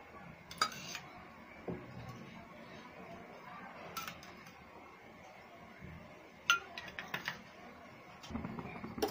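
A kadai (wok) handled on the stove while making coconut rice, with coconut poured in: sparse metallic clinks, knocks and scrapes against a quiet background, a few sharper clanks standing out.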